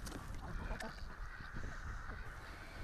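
A flock of white Remo ducks on a fish pond quacks and honks in a dense, overlapping chorus, faint and steady with busy calls throughout.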